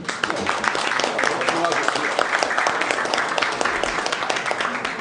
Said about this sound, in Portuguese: uma salva de palmas para o nosso relator.